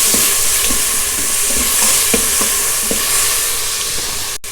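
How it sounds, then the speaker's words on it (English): Chopped tomatoes sautéing in hot ghee with crushed masala for South Indian rasam, a steady loud sizzle with occasional soft stirring clicks from the pan, no voices. "Just saute it till the tomatoes become a little bit soft"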